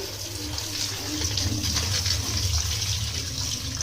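Tap water runs steadily over tomatoes being washed in a sink, a continuous close splashing rush with faint handling underneath and no talk.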